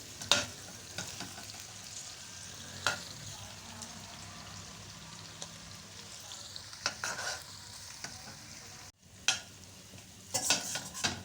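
Onions fry to a light pink in a pan for Peshawari desi chicken karahi, giving a steady close sizzle with scattered scraping clicks of stirring and a brief hush near the end before the stirring resumes.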